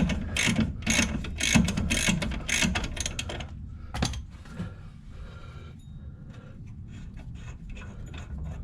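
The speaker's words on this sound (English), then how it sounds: "a 3/4 inch socket has done the trick" A ratchet with a 3/4 inch socket works a brake bolt on a Triumph TR7 in a rapid burst of close metallic clicking, followed by quieter scattered clicks and handling sounds.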